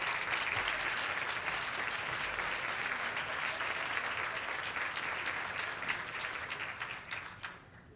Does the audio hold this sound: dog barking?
no